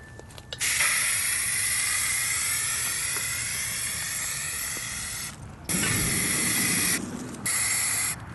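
Spray-can primer hisses onto a frame being repainted in steady bursts, a long continuous spray broken by short pauses and two more passes, close and loud with no talking.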